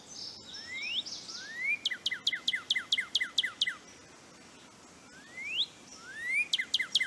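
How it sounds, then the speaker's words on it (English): A Northern cardinal sings in the Nancy Drew video game: rising slurred whistles, then rapid series of sharp repeated chirps, then a pause before the phrase starts again. The singing is clear and fairly close. "Northern cardinal."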